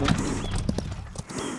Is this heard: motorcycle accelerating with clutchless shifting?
no